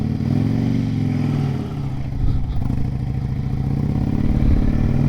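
A motorcycle engine idles nearby with a loud, steady mechanical chug, briefly dipping and then picking back up with a slight rev.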